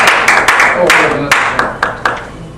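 Audience at a Toastmasters evening meeting gives a round of clapping, a close, loud burst of claps with a few sharper individual claps near the end.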